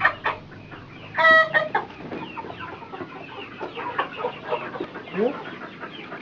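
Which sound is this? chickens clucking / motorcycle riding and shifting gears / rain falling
chickens clucking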